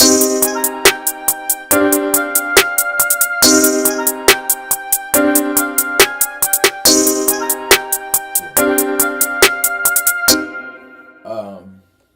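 A punchy programmed drum beat with regular kick and snare hits and a final accent snare over a synth pattern, stopping abruptly near the end.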